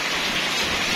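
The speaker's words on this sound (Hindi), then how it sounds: "ये तो लोगों के घरों में पानी चला जाएगा, इतनी तेज बारिश है।" Heavy rain pours down in a dense, steady hiss, loud and continuous, hard enough to threaten flooding homes, with no voices.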